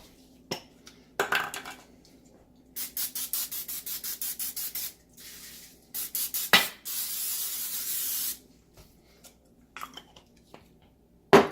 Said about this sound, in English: What I like to do is spray it like that